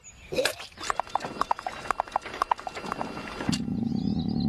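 A horse's hooves clip-clop in a brisk, irregular run of sharp knocks for several seconds, then give way to a steady low rumble near the end.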